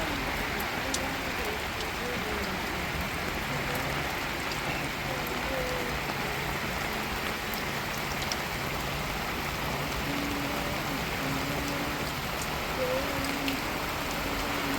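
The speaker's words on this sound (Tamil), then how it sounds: "இப்போ மழை தாங்க, காற்று மழையும் தான் அடித்து ஊற்றிக்கிட்டு இருக்கு." Heavy rain driven by strong wind pours steadily on a village, a dense, unbroken hiss with gusty roar underneath that stays level throughout, with faint voices buried in the downpour.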